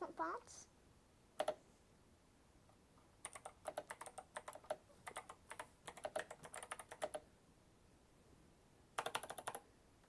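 Computer keyboard typing in quick bursts of clicks with pauses between, fairly close and moderately loud, alongside a compact mini PC setup; there is little or no talking over the keystrokes.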